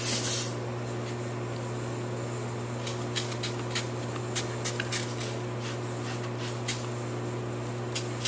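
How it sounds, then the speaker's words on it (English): Spray bottle hissing onto a boost pipe T-connector during a leak check, short bursts of spray over a steady mechanical hum of air being pushed through the system, no talking. "Spray it, see how it goes."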